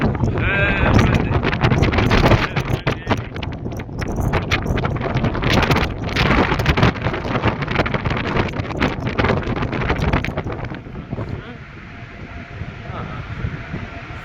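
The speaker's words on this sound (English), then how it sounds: "Hold on to your camera. It's very windy." Gusty wind on a cruise ship deck at sea roars and buffets the microphone loudly and continuously, easing near the end.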